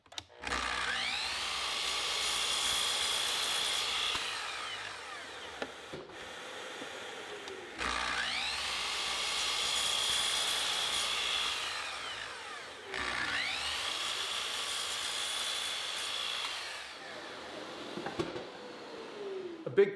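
A power saw cuts a wooden planter leg against a stop block in three separate whining passes, each about four seconds long and winding down between cuts, loud and close with no talk.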